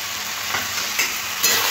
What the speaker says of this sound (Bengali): আলুটা একটু ভাজা ভাজা করে নিয়ে তারপরে দেবো চিলি ফ্লেক্স।